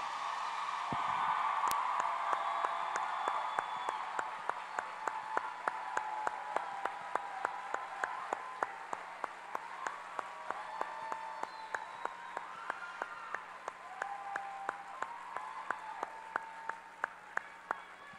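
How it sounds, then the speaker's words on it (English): An audience applauds the educators at a beauty school expo, a broad wash of clapping that carries through the stretch, with sharp individual claps standing out rhythmically in the later part. "let's give them a round of applause for the educators at Empire"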